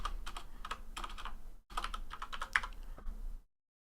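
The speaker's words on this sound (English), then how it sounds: "So just double click on this and then type hl.exe" Quick keystrokes tap out a short command on a computer keyboard, a close, crisp run of clicks broken by a brief pause before a final few taps and silence.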